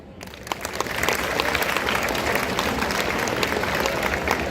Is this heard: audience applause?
yes